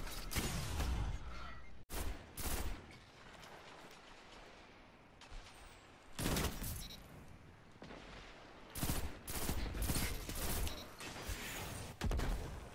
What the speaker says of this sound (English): he shot me with a rocket